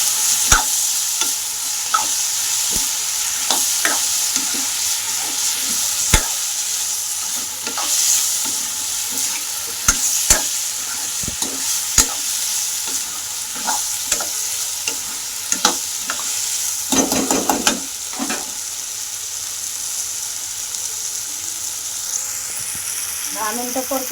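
Potatoes fry in a pan with a steady, close sizzle for a long stretch, broken by repeated sharp clicks and scrapes of a spoon stirring against the metal.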